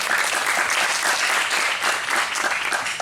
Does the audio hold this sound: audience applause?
yes